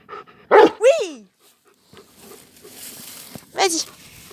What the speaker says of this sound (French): je vais lui apprendre à aboyer sur commande.